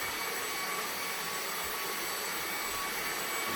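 Cordless vacuum cleaner running steadily while picking up dust, a continuous high whining whoosh held close and loud throughout.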